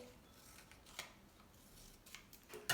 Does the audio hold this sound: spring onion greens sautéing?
no